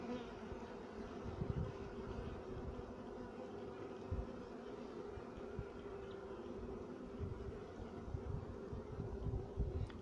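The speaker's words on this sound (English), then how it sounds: "There's a bee on my hand." Honey bee worker buzzing steadily up close on a hand, a continuous droning hum with slight flutters in loudness, held throughout with no talk.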